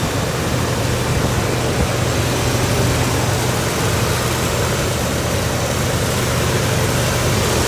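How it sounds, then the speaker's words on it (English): A 1988 Chevrolet K5 Blazer engine runs steadily with no tailpipe fitted, giving a constant low rumble and broad exhaust roar that holds evenly throughout without a break. "The motor sounds really good."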